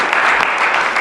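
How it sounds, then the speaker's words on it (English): Crowd applauding at a UMC 10-year anniversary gathering, dense steady clapping filling the room for the whole second, loud and close with no pauses. "give him a round of applause"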